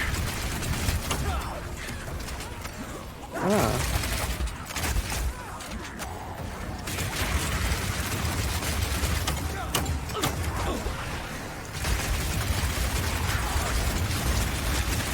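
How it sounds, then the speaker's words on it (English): A crossbow firing explosive grenades in Path of Exile 2, with repeated mechanical launches and bursts of explosions over a busy layered game soundscape. Scattered pops and blasts come in clusters throughout, with a louder surge partway through. "Now I've been using explosive grenades here, but it will work equally as well with flash or oil grenades too"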